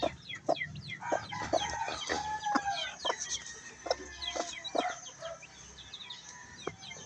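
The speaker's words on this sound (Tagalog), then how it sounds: "mayroon ng sisiw sa ating inahin" A hen clucks repeatedly up close while faint high peeping of chicks and other farmyard bird calls continue around her.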